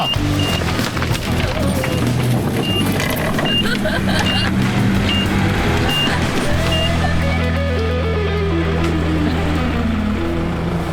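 A 4WD vehicle crawls off-road in second gear with the front locker engaged, its engine droning loudly and rising in pitch, with intermittent beeping and scraping over rough ground throughout.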